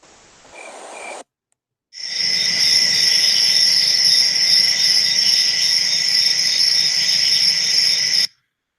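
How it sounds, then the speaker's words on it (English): A dense, steady chorus of crickets chirps loudly and continuously for several seconds after a brief snippet and a moment of silence, then stops abruptly. "That's what you heard. Crickets."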